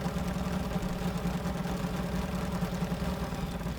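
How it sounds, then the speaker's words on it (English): A 1955 Mercedes W196 R straight-eight racing engine idling in Gran Turismo 7: a steady, close, low throbbing hum with an even pulsing texture, alone without speech. "the engine noise sounds great. Straight 8 sounds amazing."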